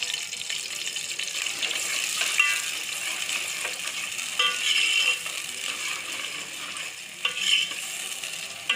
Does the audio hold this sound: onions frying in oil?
yes